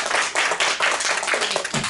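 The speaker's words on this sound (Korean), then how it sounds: "오늘 수고해주신 두 낭독 학생한테 다시 한번 박수" Audience at a student reading event clapping for two student readers, a steady round of hand claps filling the short clip, moderately loud and close, with no voices over it.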